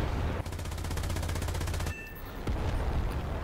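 An IAR-81C aircraft in the War Thunder game fires its MG 151 cannons and FN Browning machine guns in one rapid, sustained burst of loud, close gunfire, followed by a few scattered single shots and engine drone.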